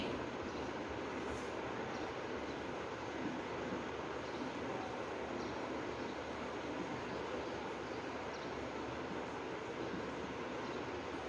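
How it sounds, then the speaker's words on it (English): A train rumbles past in a continuous, steady roar, with a low rolling drone and hiss that holds at an even level throughout and no clear gaps. "T-R-A-I-N. Train."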